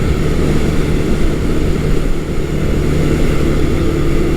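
A Honda CB400 T Hawk (400 Super Dream) motorcycle engine pulls hard at high RPM, giving a loud, steady, continuous drone with wind rush throughout.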